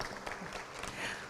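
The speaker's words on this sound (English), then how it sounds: "I think that deserves a round of applause" Faint, distant applause from an audience honoring an urban content aggregator, a soft continuous patter of clapping throughout.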